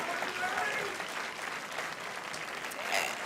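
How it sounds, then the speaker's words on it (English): Audience applause at the 59th Northwest Regional Emmy Awards ceremony, a steady wash of clapping from a crowd that holds evenly for about three seconds, fairly faint and distant. "So if we could all give him a round of applause."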